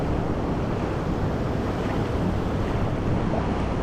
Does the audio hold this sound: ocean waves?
yes